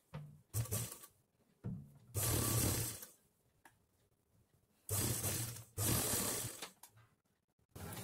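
A sewing machine stitching along the curved neckline of a blouse, running in short whirring bursts of about a second each with quiet handling pauses and small clicks between, close by.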